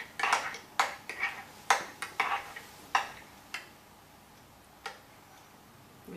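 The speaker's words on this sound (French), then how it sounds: "Vous mélangez bien jusqu'à dispersion totale." A spoon clinks and taps against a container while stirring thickening powder into a liquid, a run of sharp irregular ticks that thin out and fade toward the end, with no voices.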